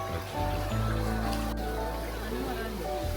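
A waterfall in Bali sends water rushing in a steady, broad wash while a person talks over it throughout the short stretch.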